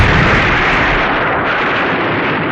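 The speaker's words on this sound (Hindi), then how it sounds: "एक जोरदार धमाका हुआ।" A loud, rumbling blast of broadband noise that fills the whole clip with a roaring, sustained boom.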